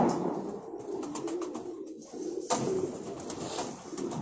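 Several pigeons in a loft coo steadily throughout, low murmuring calls overlapping one another at moderate volume, with no voices.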